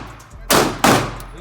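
Two sharp, loud gunshots close together at an outdoor shooting range, each a hard blast with a short decaying tail, heard near and alone.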